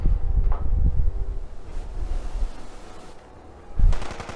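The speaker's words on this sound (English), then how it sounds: "And so she follows the gunshots" Bursts of rapid gunfire crackle through a windy, rumbling background, with a louder volley near the end, combat in the video game Fallout 4.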